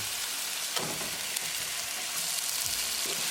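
Onion just added to hot oil and garlic in a pan for a cod fish curry tadka, a loud steady sizzle with a few scraping stirs, close up and without talking.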